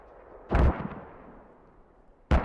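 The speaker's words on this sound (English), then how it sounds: "FA does have a mortar base. They've got one mortar tube up" Mortar fire in a military video game match, two heavy booming thumps about two seconds apart, each a loud impact with a rumbling tail, no voices.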